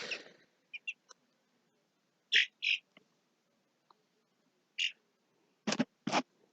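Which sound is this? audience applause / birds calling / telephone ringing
birds calling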